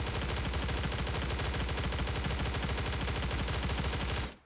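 Sustained automatic gunfire in the game Stalcraft, a rapid, steady stream of loud shots for about four seconds before cutting off, with no voices over it.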